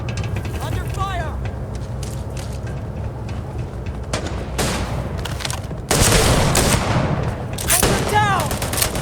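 Gunfire in the video game Starfield during a firefight, with repeated sharp shots and bursts over a dense mechanical din, growing louder toward the end alongside brief voice calls.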